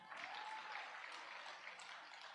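Applause from a crowd at a religious talk session, a soft, steady wash of many hands clapping, faint and distant throughout.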